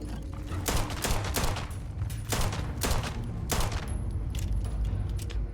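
Gunfire in the video game Starfield: several sharp, loud shots in irregular bursts over a rumbling game background, no talk.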